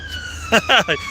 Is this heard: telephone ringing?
no